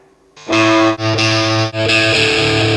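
Harsh, fizzy distorted electric guitar through an M-VAVE Cube Baby multi-effects unit with no cab IR hits a few loud sustained chords, the raw unfiltered tone sounding thin and buzzy at the top.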